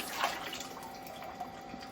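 Winter wood pottery glaze poured over a mug already coated in three layers of fire brick red, a soft continuous liquid trickle with faint drips, close and quiet with no talk.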